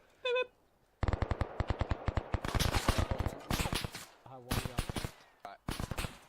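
Rapid bursts of gunfire crackle through a video game roleplay shootout, with dense repeated shots in close clusters and short pauses between volleys, loud and near.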